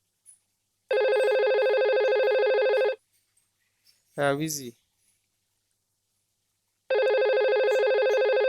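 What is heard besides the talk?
VoIP phone call ringing out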